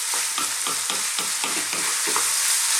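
Moussaka filling fries in a pan over medium-high heat while a spoon stirs it in steady rhythmic scrapes, about nine strokes over a constant loud sizzle, close up with no talking.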